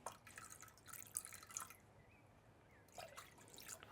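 Red wine poured into a cooking pan with tomato purée, a faint, close liquid trickle and splashing with a few drips, quiet and alone.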